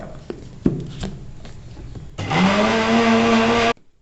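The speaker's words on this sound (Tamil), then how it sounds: "இப்போ ஆற வச்ச பாசிப்பருப்பை மிக்சியில் அரைச்சி எடுக்க போகிறோம்." A mixer grinder grinds roasted, cooled moong dal into powder, starting abruptly with a loud, steady whir that rises in pitch and runs for about a second and a half before cutting off. A few quiet knocks and clatters come before it.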